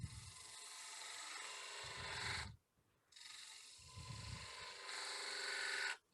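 Wood turns on a lathe under a detail gouge: two long, close, rasping cuts of steady scraping, each with low thumps at its start, separated by a short quiet gap.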